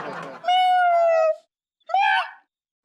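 Human voice mimicking a cat's meow: a long drawn-out mew followed after a short pause by a shorter second one, loud and close, in a Hindi comedy scene.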